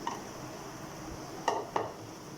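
Boiled rice is stirred into chicken fried rice in a pan, with a couple of faint scraping clinks of a utensil against metal over a quiet kitchen background.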